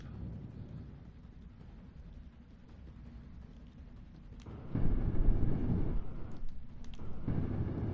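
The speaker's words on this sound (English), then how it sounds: "Meteor storm inbound." A meteor storm in the video game Interstellar Research Acquisitions comes in as a low, distant rumble that swells into heavy, thunder-like booming partway through, with a few sharp crackles near the end.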